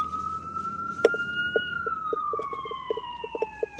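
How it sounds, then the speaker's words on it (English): A police siren wails on a New York City street, its long steady tone slowly falling in pitch, with repeated short horn-like blips and busy traffic noise underneath. "The sirens is one of the hallmark sounds of New York City"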